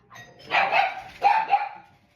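A doorbell rings with two ding-dong chimes, close and clear, while a dog barks along with them in a short, excited burst.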